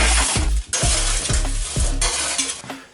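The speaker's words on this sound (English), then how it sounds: "This is where I use a metal spatula to get them off the tray" A metal spatula scrapes and clatters against a baking tray as oven chips are lifted off, several quick close scrapes and taps over a low sizzle.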